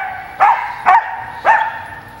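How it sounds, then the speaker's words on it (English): A dog barks three times close by, each bark sharp and loud with short pauses between, against a quiet indoor background. "She barks like right in your face when you bend down to pick it up."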